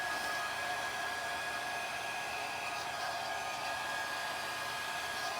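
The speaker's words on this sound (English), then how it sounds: "It's such a tiny little blow dryer. It just doesn't have very much power to it at all." A small, low-powered dollar store blow dryer runs on its low setting, giving a steady, faint whirring hiss with a thin high whine that continues evenly throughout.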